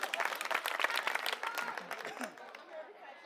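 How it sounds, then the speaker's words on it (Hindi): At a political rally in Model Town, a crowd claps, a fairly distant patter of many hands with voices mixed in, fading out over the last second. "इसके लिए ताली बजा दो पहले।"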